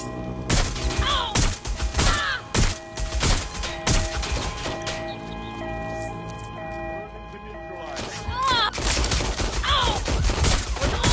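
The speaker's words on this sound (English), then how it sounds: "Suspect has opened fire!" Bursts of gunfire in the Watch Dogs video game crack out repeatedly, with heavy thuds and crashes mixed among them, while voices talk over the action.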